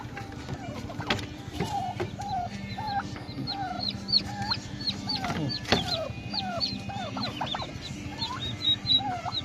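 Several turkeys call and cluck nearby in short, overlapping bursts, with occasional sharper squawks among the flock.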